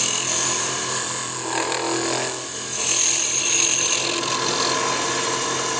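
Wood lathe turning a balsam spruce Christmas tree ornament, a steady whirring hum with a high whine and the scraping rasp of the cutting tool on the spinning wood, continuous and close.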